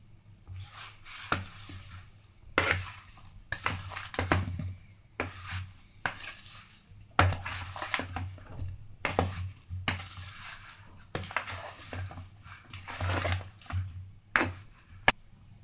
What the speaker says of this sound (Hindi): सबको हम मिक्स कर देते हैं।